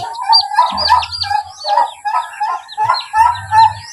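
Hen's chicks, thirteen in one brood, cheep in a rapid run of high, close chirps, with a few low clucks from a hen beneath them.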